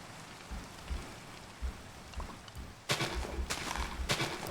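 Steady rain falls on a tree in a fishing video game, a soft patter that swells into heavier, louder bursts of drops partway through, with no voices.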